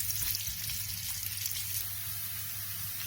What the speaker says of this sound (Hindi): कुकिंग ऑयल थोड़ा सा गर्म हो गया है। अब हम इसमें प्याज डाल देंगे।